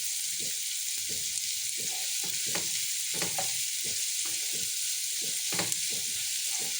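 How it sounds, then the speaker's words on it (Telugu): Sliced onions fry with spices in a hot pan, a constant bright sizzle broken by repeated scraping stirs of a spoon, close and steady. "స్పైసెస్ అన్నీ వేగిన తర్వాత ఇప్పుడు ఆనియన్స్ వేస్తున్నామండి."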